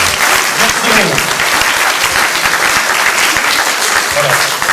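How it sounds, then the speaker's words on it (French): Audience at an awards ceremony for volunteers and athletes claps loudly and continuously, a dense, close wash of applause with some voices mixed in beneath. "On peut les applaudir, croyez-moi."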